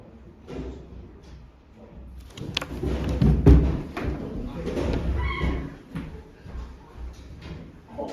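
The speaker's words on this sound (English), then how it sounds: "Can you close that door, please?" A classroom door being shut during a maths lesson, a muffled thump and rattle landing in the middle amid shuffling and room noise, fairly close.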